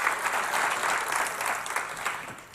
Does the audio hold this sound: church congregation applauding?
yes